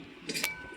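A metal lid set down on a pot of Nellore fish curry gives a short, bright clink, heard once and close, with a faint rattle just after it.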